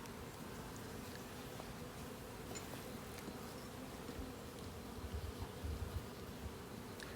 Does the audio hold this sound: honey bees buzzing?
yes